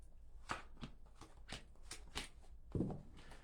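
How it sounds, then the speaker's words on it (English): A tarot card deck is cut by hand three times, giving a series of soft, close riffling and tapping card sounds with a heavier thump near the end, quiet and alone. "I'm just gonna cut the deck 3 times"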